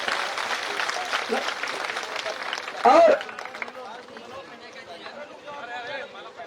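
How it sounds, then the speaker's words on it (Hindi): An outdoor crowd at a Nishad Party rally in Amethi applauds to welcome an arriving guest, with dense clapping and chatter that thin out after a loud burst, while a voice carries on over the crowd. "एक बार इनके लिए जोरदार तालियों से स्वागत होना चाहिए साथियों।"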